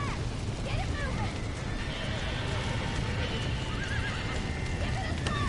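Several horses neigh and snort amid a constant clatter of hooves in the Red Dead Redemption video game, set against a dense, noisy scene with voices.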